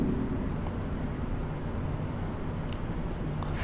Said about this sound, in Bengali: তা আমি প্রতিবন্ধক লিখে দিচ্ছি।